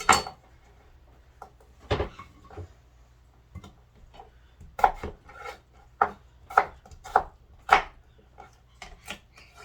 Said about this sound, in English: So, rough chop here, not anything fancy.